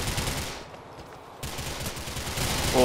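Gunfire in GTA 4: The Ballad of Gay Tony comes as dense, loud rapid bursts of automatic shots, briefly pausing in the middle before resuming.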